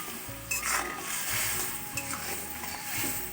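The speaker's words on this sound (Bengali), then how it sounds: "এবার একটু লবণ দেবো, হলুদ দেবো, দিয়ে মাছটা নাড়াচাড়া" Fish simmering in a pan with salt and turmeric as it is stirred, soft sizzling beneath repeated scraping and light clinks of a utensil against the pan, close and fairly quiet.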